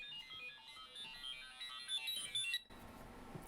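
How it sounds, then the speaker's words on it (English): Phone alarm ringtone sounding, a bright repeating electronic melody for a couple of seconds that cuts off abruptly, fairly quiet and alone. "that was my alarm going off"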